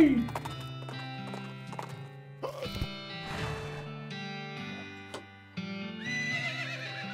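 Horse hooves clip-clop in a steady rhythm alongside repeated whinnies and neighs in the Western video game West of Loathing, with game music underneath.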